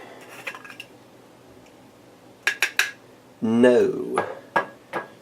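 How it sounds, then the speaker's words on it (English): An old herb grinder is handled and tapped, giving a few sharp metallic clicks and knocks in a quick cluster, followed by louder clattering handling noise over faint room background. "See if I've got anything left in the old grinder here."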